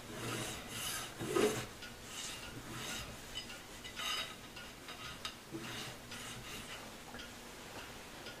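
An ivory blank being hand filed to shape a guitar fret nut, with a steady, fairly quiet rasping that rises and falls in repeated strokes from close by.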